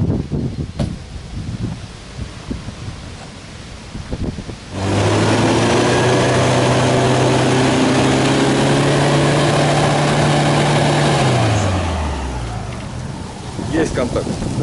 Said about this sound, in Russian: Спуск будет производиться своим ходом. Катер самостоятельно съедет с этого прицепа.